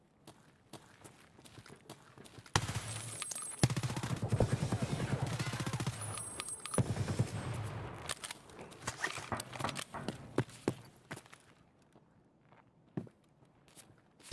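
Rapid gunfire in a video game, with bursts of shots crackling over a dense middle stretch, then scattered sharp cracks and footstep-like taps thinning out toward the end; faint voices under it.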